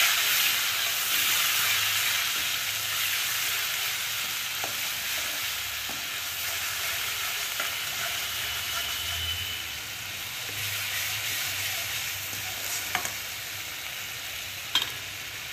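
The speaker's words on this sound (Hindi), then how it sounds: "अब इसको भून लेंगे 2-3 मिनट" Ginger-garlic paste, kasuri methi and spices fry in a pan over full flame while cooking paneer masala, giving a steady close sizzle and hiss with a few light stirring knocks.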